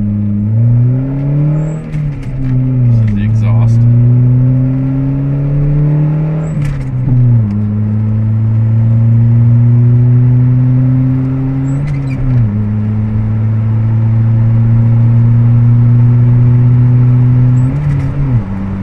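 A 1996 Toyota Camry 2.2L with straight exhaust drones loudly from inside the cabin on the highway, a steady low engine hum near 3000 RPM with a few brief dips and rises in pitch as the throttle shifts.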